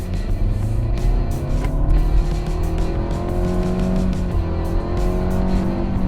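Nissan Altima with a 2.5-liter six-cylinder accelerating hard from a standstill in sport mode, the engine note rising steadily through the gears, loud and close from inside the cabin with no talking.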